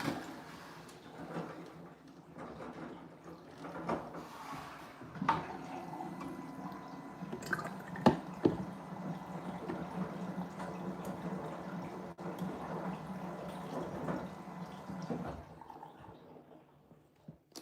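A Samsung Digital Inverter washing machine fills with water on low household pressure, giving a steady, continuous hiss and trickle with occasional soft clunks and knocks over roughly eighteen seconds, fading near the end.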